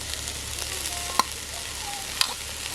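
Pungai flowers, moringa leaves and grated coconut being stir-fried in a pan, a steady close sizzle with two sharp scrapes of the spoon against the pan.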